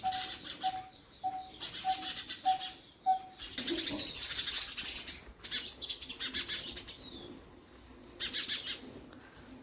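Sparrows flutter their wings in quick, rustling bursts and chirp in a short run of repeated notes near a village home, moderately close with no one talking.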